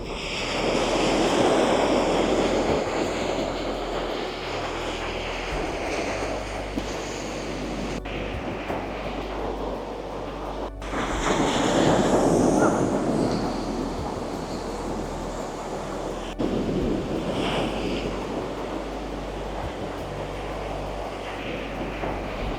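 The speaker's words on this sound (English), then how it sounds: "I'm not gonna say anything, just want you to listen to the waves." Ocean waves roll onto a beach on Madeira, surging and fading in slow swells for over twenty seconds. Steady wind buffets the microphone throughout, and no one speaks.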